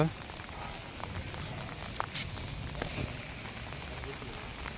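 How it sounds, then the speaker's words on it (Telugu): Heavy monsoon rain in Araku hisses close by, a dense wash of drops with occasional sharper patters, continuous throughout. "వర్షం అయితే బీభత్సంగా అయితే కురుస్తుంది"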